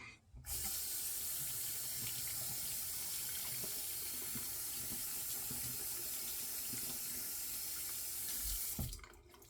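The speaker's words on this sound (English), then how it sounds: "so I'm going to rinse that out a little bit" Water runs steadily from a bathroom tap while a shaving brush is rinsed under it. The flow is close and constant, stops abruptly near the end, and there is no talk.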